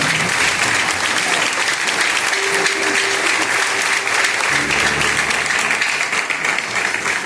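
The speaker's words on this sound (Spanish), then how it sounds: "¿Cuánto le pueden dar un fuerte aplauso al Señor?" A church congregation gives a loud, sustained round of applause to the Lord, dense clapping filling the whole stretch, with a held musical tone or voice surfacing briefly in the middle.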